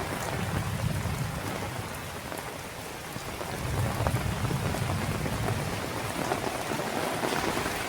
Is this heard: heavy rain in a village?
yes